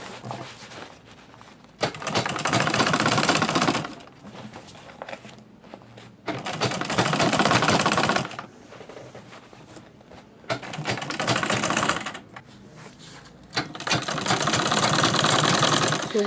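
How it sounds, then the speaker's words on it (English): A sewing machine top-stitches a lunch bag in several loud bursts of rapid, steady needle chatter, each running about two seconds, separated by quieter pauses. "So this is how you top stitch it."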